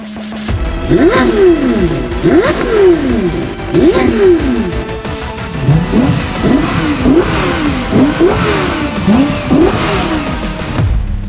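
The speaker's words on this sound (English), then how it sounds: "Now we need to go drag race them, for the sole purpose that you guys can hear them inside and out." Powerful engines of a Lexus LFA, Porsche Carrera GT and Audi RS3 rev hard in a drag race through repeated rising whines, shifting up gear after gear as they accelerate, loud and close with no talking.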